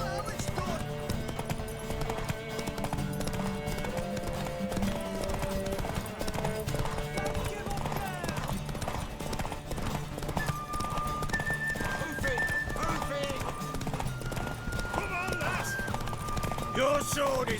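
Hooves clip-clop steadily as a horse runs in The Witcher III: Wild Hunt, with an occasional whinny, set under game music and dialogue that continue throughout.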